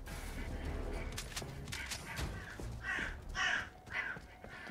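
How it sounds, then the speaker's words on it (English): Bird calls from the Helldivers 2 video game: harsh caw-like cries sound several times in the latter half over steady game noise and scattered sharp bangs. "And a bird coming by."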